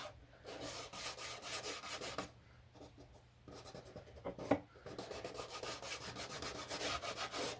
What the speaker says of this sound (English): slide my finger backwards and forwards until it gets sticky.